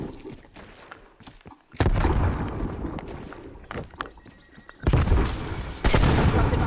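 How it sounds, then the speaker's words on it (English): A frag grenade explosion in Call of Duty Black Ops Cold War booms loudly and is followed by further heavy blasts and gunfire bursts, with a quieter stretch of distant shots in between. "Throwing frag grenade."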